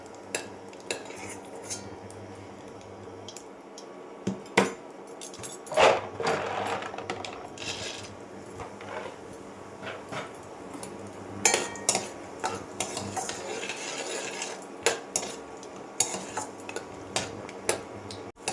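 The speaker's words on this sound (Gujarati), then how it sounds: "હવે આપણે શિંગદાણાને પણ ફ્રાય કરી લેશું." Peanuts frying in a pan are stirred with a metal spoon, giving scattered scraping clinks and taps over a soft background sizzle, close up with no voices.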